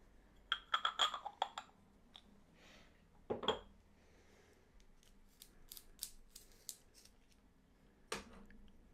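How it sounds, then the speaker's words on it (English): A handheld sharpener works on a drawing pencil in quiet, brief scraping and clicking bursts, with a cluster early on, another a few seconds later and scattered ticks after, all faint in a still room. "Just getting my sharpener"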